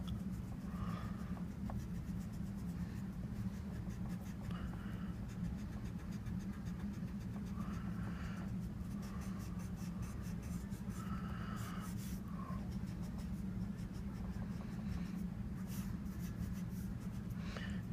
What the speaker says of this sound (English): take a little bit of time here and erase some of these extra lines